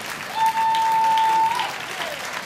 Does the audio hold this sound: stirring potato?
no